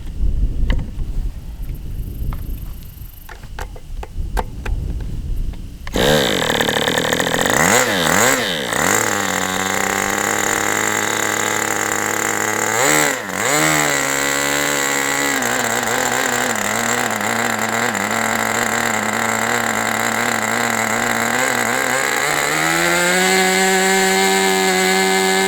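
An Aviastar 46 model airplane engine fitted with two carburetors starts after a few seconds of handling noise, then screams at a loud, steady high pitch, wavering briefly in speed before holding a constant whine.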